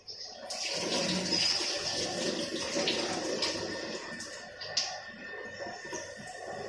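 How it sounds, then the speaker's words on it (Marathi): Rinse water from washed urad dal gushes and pours out in a steady rush that tapers off, with a brief clink near the end, heard close with no talking. "तर हे पाणी आता काढून टाकायचं"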